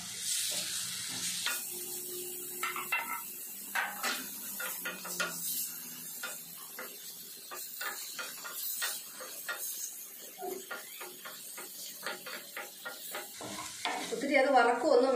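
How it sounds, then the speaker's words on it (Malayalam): Marinated paneer frying lightly in oil, a soft steady sizzle broken by frequent scraping and clinking of a utensil stirring in the pan, with no talk. "മാരിനേറ്റ് ചെയ്ത പനീർ ഈ എണ്ണയിലൊന്ന് ചെറുതായിട്ട് വറുത്തെടുക്കുന്നു"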